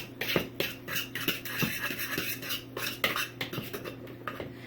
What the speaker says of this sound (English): I want to get my dry ingredients all mixed up before I try to cut in the butter